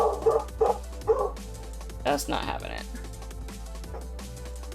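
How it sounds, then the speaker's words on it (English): Several dogs bark and yip close by in sharp bursts, then fall into whimpers, while a person talks over them indoors beside a mechanical keyboard. "I'm so sorry about the dogs."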